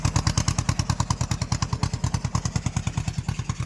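A motor boat engine chugs in a fast, steady, loud pulse close by as the boat pulls away from shore, with a rapid regular thump and rattle.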